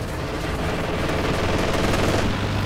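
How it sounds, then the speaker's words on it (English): Sturmovik aircraft strafing run in the World War II strategy game Company of Heroes 2, a loud dense wall of rapid gunfire and rumbling explosions that roars without pause. "just as the Sturmovik strikes"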